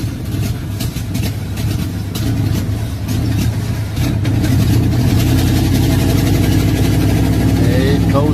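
A cold engine idling roughly and refusing to take fuel, with a steady low rumble that runs close and loud throughout, while people talk over it.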